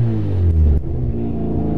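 Drift car engine with poor throttle response, a loud, close revving rumble that swells, then drops abruptly and settles into a lower, uneven drone.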